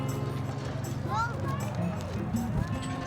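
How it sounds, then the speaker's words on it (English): Horse hooves clip-clopping during a horseback ride at a pumpkin patch ranch, steady rhythmic steps heard close under people talking and background chatter. "Horseback riding."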